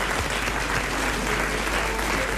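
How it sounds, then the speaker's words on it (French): Studio audience applause on a French-language radio or television panel show, a dense, uniform burst of clapping from many hands, loud and sustained for a couple of seconds. "Vous allez applaudir Monsieur Blavier de Braine-l'Alleud."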